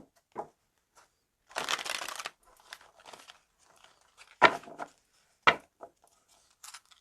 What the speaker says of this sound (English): I'm just listening as I shuffle these cards